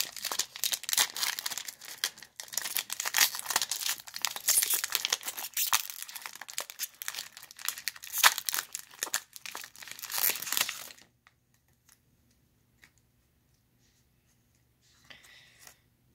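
Crinkling and tearing of a foil Pokemon Chilling Reign booster pack wrapper, close and continuous rustling for about eleven seconds, then near silence with a faint final crinkle.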